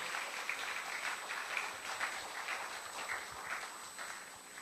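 A congregation at a Korean church summer retreat claps for their pastor: a steady wash of applause from many hands with a faint rhythmic pulse, fairly distant and soft, with no voices on top.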